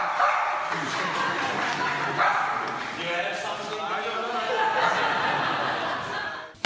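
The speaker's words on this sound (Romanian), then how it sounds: "celebrul câine Patron, care a lătrat și a dat din coadă strânind râsete din partea publicului" A mine-detection dog barks a few times during an award ceremony as the audience chuckles and laughs, with a voice speaking over the noisy room.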